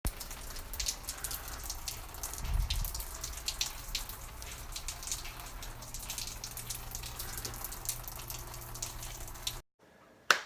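Water drips and trickles through the flooded floors of a hotel, a steady faint patter of drops with a brief heavier splash partway through, continuing for about ten seconds before stopping.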